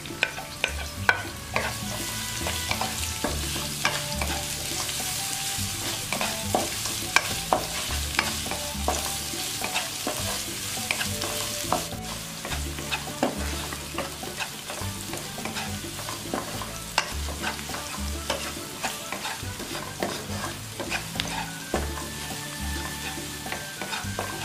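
Shallots and garlic stir-fried in hot oil for a nasi jagung dish, a steady close sizzle broken by frequent scraping clinks of a spatula against the pan, with no talking.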